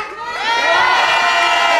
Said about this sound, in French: vous pouvez l'applaudir parce qu'il y a du boulot qui a été fait pour la Gay Pride